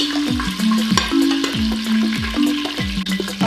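Green chillies sizzle and fry in hot oil in a pan for a mutton curry, a steady close crackle with repeated stirring scrapes and no talk.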